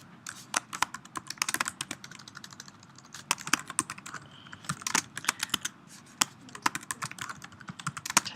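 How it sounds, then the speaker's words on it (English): Rapid, close keystrokes on a computer keyboard as a class name is entered, clicking in an uneven, continuous stream with no voice over it. "type in a name"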